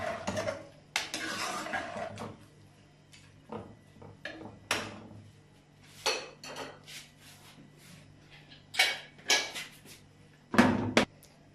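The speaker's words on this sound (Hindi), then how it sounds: "कुकर अब हमने बंद कर दिया, वेट लगा दिया" Metal clanks and clatters of a pressure cooker lid being closed and its weight set in place, several knocks and scrapes spaced out over a quiet kitchen background.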